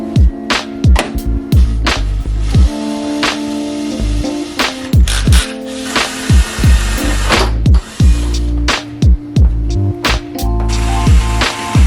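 A power drill boring into the body panel of a Subaru STI, a steady high-pitched motor whine in repeated bursts with short pauses and stutters, loud and close throughout.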